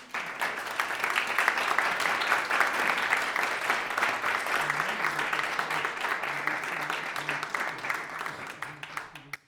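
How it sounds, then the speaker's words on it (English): A salon concert audience applauds to welcome a composer, a dense, sustained round of clapping from many hands that holds steady throughout and tapers slightly at the end. "So please welcome Igor with an applause"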